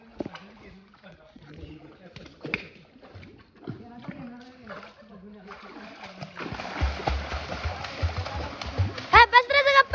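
Children swimming kick and splash water, soft intermittent splashes under playful talk that build into louder, close churning splashes toward the end.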